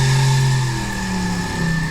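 A stock car-chase sound effect plays loud and close: a sustained, tonal engine rev with shifting pitch layered under a squealing tire, steady for the whole stretch.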